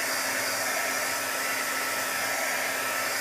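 A handheld dryer blows steadily to dry ink on a handmade card, a loud, close, even whooshing roar with a faint steady hum and no talking.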